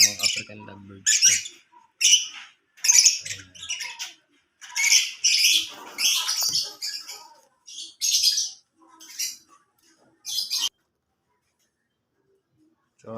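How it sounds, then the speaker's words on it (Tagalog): African lovebirds chirping and squawking in bright, shrill bursts, close by, in irregular clusters that stop near the end. "ito nga pala mga idol yung African lovebirds ko"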